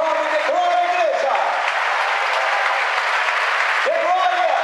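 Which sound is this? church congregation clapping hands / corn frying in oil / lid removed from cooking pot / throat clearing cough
church congregation clapping hands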